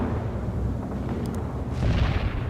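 Grenade fire in the World in Conflict battle, with a steady rumble of low booms and blasts that swells louder near the end and sustains a broad, heavy roar.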